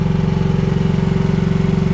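Small diesel engine of an AGT H15R cheap Chinese mini excavator running steadily, a loud, close, throbbing drone with an even pulsing rhythm and no speech.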